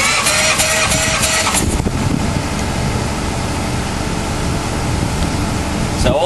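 An old Jabiru aircraft engine runs during a ground test, a loud continuous mechanical roar with a brief louder burst at the start, steady throughout with little change.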